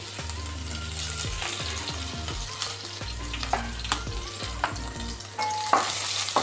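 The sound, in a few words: frying cumin, ginger and green chilies in a pan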